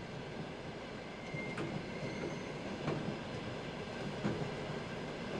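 A passenger train rolls along the rails in steady motion, a continuous rumbling wash broken by a few sharp clacks and faint wheel squeals, heard from inside without talk.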